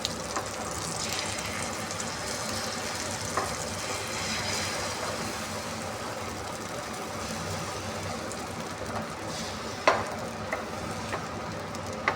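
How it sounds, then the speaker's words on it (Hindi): Egg mixture fries in ghee in a frying pan, giving a steady, close sizzle that holds evenly throughout, with a few brief scrapes and taps near the end and no talking. "अब ये मैंने फ्राई पैन में घी डाल दिया। अब मैं थोड़ा थोड़ा करके जो है ना इसके अंदर डालूँगी अंडे का मिक्सचर।"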